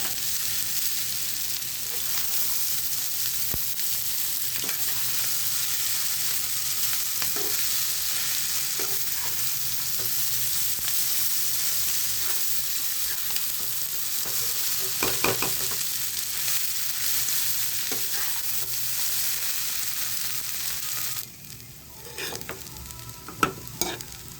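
Maggi noodles stir-fried in a pan with carrot, cabbage and egg, giving a steady close sizzle with scraping stirs throughout, ending in a few sharp utensil knocks with no talking.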